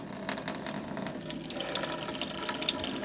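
Tap water runs from a low-pressure faucet in an off-grid tiny house, steady with a thin, irregular splashing and a faint mechanical rattle, close by, with no voices.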